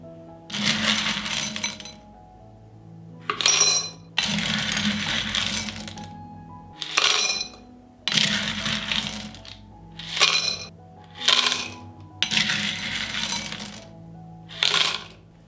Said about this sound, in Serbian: sada ću napuniti 1 teglu sa testeninama